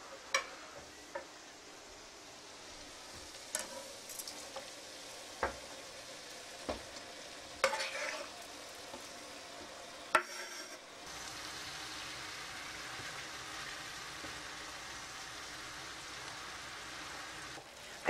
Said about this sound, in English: When the meat is almost browned, I'm going to add some chopped tomatoes and chopped onions.